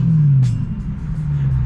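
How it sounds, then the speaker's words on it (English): A Honda car engine droning low and steady nearby, with a faint rumbling idle that dips in pitch and carries on without talk, alongside a couple of brief higher bursts. "it was him that was making noise,"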